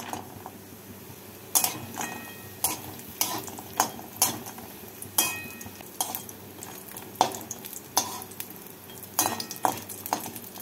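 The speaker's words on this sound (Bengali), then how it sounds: "তেলটাকে গরম করে নিয়ে এর মধ্যে প্রথমে ডালের বড়িগুলোকে ভেজে তুলে নেব" Black gram (biuli dal) lentil dumplings frying in hot mustard oil in a wok give a steady sizzle, broken by frequent sharp metallic clinks and scrapes of a spatula stirring, with no talking.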